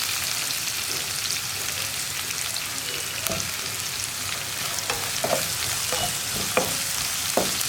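Sliced onions frying in a pan for a potato curry produce a continuous dense sizzle, joined in the second half by several clattering stirs of a spoon against the pan.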